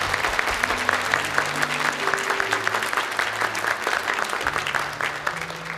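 A congregation at a Christmas Eve Sunday worship service applauds visiting missionaries from Colombia, a dense, steady clapping that lasts throughout, with soft sustained low tones underneath.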